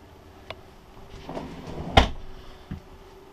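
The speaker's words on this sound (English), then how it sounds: "A large drawer under the sofa." A large drawer under the sofa of a 2015 Airstream Classic 30J travel trailer slides with a soft rumbling rush, then lands in a sharp knock, with lighter taps before and after.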